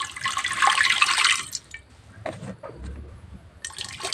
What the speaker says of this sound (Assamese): কুকাৰটোত মই অলপ পানী দি লৈছোঁ